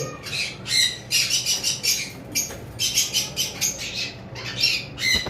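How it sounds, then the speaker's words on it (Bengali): Several double factor violet mask lovebirds on a farm squawk in loud, bursts of shrill calls, with fainter chirps between and rustling of wings as the frightened birds flap about nearby. "একটা পেয়ার ভায়োলেট মাস্ক রয়েছে ডাবল ফ্যাক্টর ভায়োলেট মাস্ক এই অনেক বেশি উড়াউড়ি করতেছে কারণ পাখিগুলো বেশি ভয় পাচ্ছে"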